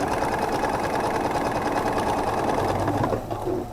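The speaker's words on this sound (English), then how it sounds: "I'm going to nest the bottom seam, and we're going to sew down there." Close and steady, a sewing machine runs continuously down a nested seam on a half-square-triangle star quilt block, then slows and stops near the end.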